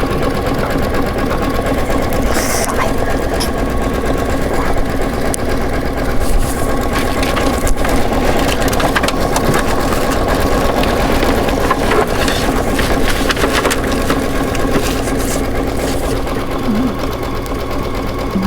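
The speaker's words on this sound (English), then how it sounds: "Okay, it's still sewing out for us." An embroidery sewing machine stitches out a design, a loud, close, steady mechanical whirr with rapid needle clatter running unbroken throughout, with faint voices in the background.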